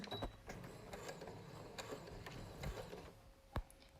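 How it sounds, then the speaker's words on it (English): A sewing machine stitches down the edge of a face mask casing, a faint, close mechanical whir with small clicks and taps, ending on a sharper knock. "You're gonna sew right down the very edge of that casing."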